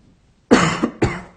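Two harsh coughs in quick succession, close and fairly loud, after a moment of silence.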